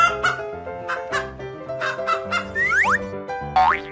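Cartoonish chicken clucks repeat in short rhythmic bursts, mixed with springy boing effects and rising slide whistles over light background music, fairly loud and close.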